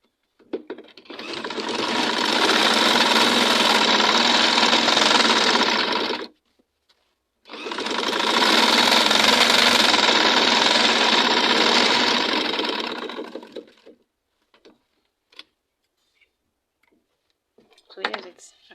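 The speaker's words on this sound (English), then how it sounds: "I start sewing from here." A sewing machine stitching satin fabric for a turban cap, running in two long steady bursts of a few seconds each with a short pause between, followed by faint clicks and handling.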